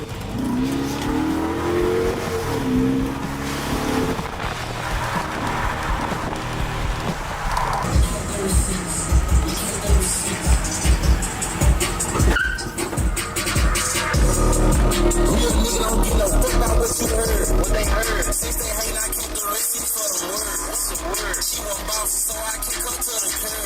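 A Dodge Hellcat revs hard, its engine roaring and climbing near and loud with tire squeal, bangs and a sustained high-rpm howl, while people talk over parts of it.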